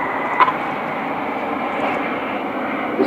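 Red Arrows jets flying in formation at the Sunderland Airshow 2015 give a steady, distant roar that holds level throughout without breaks.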